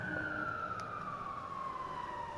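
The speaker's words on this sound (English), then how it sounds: "Police sirens." Police sirens wail in a London street battle in Call of Duty: Modern Warfare, a single steady tone gliding slowly downward, loud and continuous over a dense background of game ambience.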